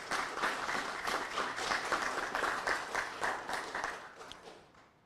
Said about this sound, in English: So I would just want us to give him a round of applause